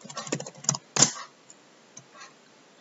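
A few quick keystrokes on a computer keyboard while typing into a PowerPoint slide, close clicks grouped in a short burst followed by a couple of lighter, scattered taps, in a quiet room with no one speaking.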